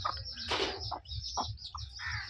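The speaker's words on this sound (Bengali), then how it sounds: "তো এখন মুরগিটিকে আমি একটা কিছু চালের দানা দিব, দেখেন কীভাবে খায়।" A chicken clucks in short, repeated bursts while pecking at scattered rice grains close by, with a steady low background hum.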